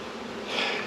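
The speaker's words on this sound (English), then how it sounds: "A lot of bees though." Honey bees buzz around a hive, a thick continuous drone of many insects close by that swells slightly in loudness partway through, with no voices.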